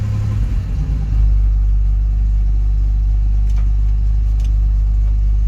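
A 1958 Mack B-21 fire truck engine, restarted after thirty years of sitting, runs with a loud, deep, steady low rumble after a rougher start, faint clicks above.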